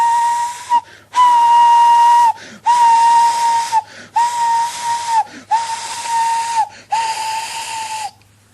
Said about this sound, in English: He was purple in the boiler, and whistling fit to burst.